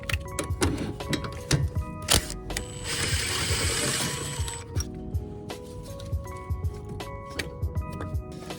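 Ratcheting on a 14 mm brake caliper bolt on a Miata during a front suspension rebuild: rapid repeated clicks and metallic clinks close by, with a brief whirring stretch in the middle, no talk.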